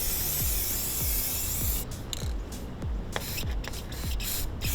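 A spray paint can hisses in loud, continuous bursts as camo paint is sprayed onto e-bike rims, the steady rush broken by short pauses and shifts as the nozzle moves.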